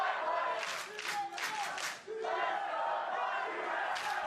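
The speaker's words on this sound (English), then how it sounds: "I like the battling chants here." A large esports arena crowd at a League of Legends match, TSM versus FlyQuest, chants in loud rhythmic bursts and cheers continuously, a dense roar filling the hall.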